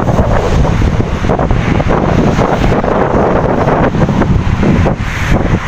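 Strong wind blasts constantly and loudly into an outdoor microphone, a dense rushing roar with gusty surges and no pauses.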